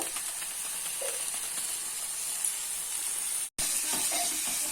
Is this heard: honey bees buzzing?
no